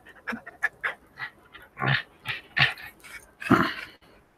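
A dog nearby whimpers and pants in a string of short, uneven yips and breathy bursts, growing louder toward the end, with no talking.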